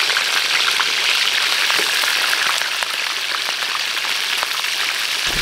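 Braised pork trotter fries in hot oil with a dense, continuous sizzle and crackle, close and fairly loud throughout.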